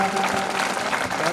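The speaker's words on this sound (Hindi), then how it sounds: "बच्चे तालियां बजाएं" Children applauding together at a government school's 2022 annual function in Indokha, with steady, dense clapping throughout and a voice faintly audible underneath.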